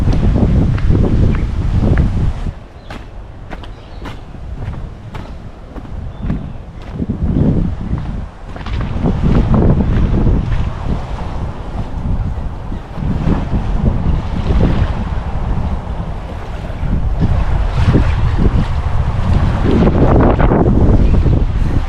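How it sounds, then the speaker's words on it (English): Wind buffets the microphone beside the Swan River in Perth, a loud, continuous low rumble that rises and falls in gusts, with brief lulls and no voices. "There's that pesky wind again."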